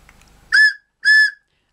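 A handmade wooden whistle gives two short, loud, clear toots in a row at the same pitch, each about a quarter second long, with silence between and after.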